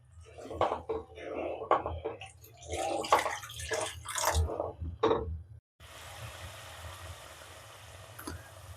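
Water is poured into a pan of mustard, cumin and poppy seed paste frying in oil, making a close, irregular splashing pour that gives way to a steady soft sizzle, with low speech nearby.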